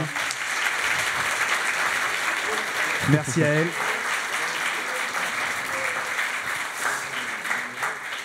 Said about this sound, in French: on peut les applaudir, hein, vraiment